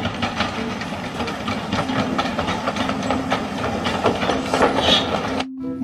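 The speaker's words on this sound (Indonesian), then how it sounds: "Kereta api." A toy train runs with a continuous hissing, chugging rattle for about five seconds, then cuts off abruptly, with no voices over it.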